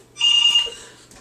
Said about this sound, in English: Why am I getting phone calls?